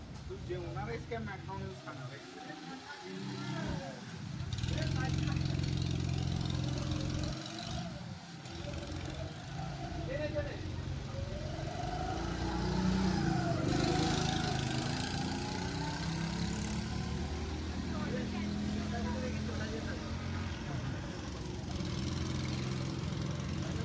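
Go-kart engines at a karting track, a buzzing mid-pitched drone that rises and falls as karts pass, with people talking and laughing over it throughout.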